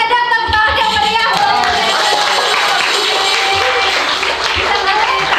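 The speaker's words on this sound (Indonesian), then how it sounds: "Boleh dong tepuk tangan yang meriah" Loud, lively applause and cheering from an audience at an Indonesian game show, with energetic clapping, crowd noise and raised voices throughout.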